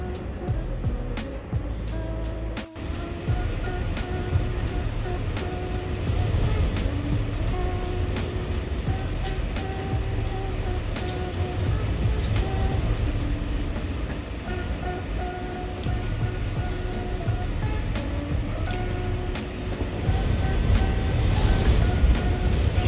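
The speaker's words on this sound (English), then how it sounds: "I don't know if you can hear the wind behind me, but it is blowing." Constant roaring wind noise with buffeting gusts on South Padre Island, swelling stronger toward the end, no voices.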